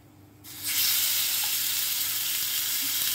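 Marinated chicken dropped into hot oil with whole spices in a pan, a sudden loud sizzle that swells up after a quiet start and then holds steady and close.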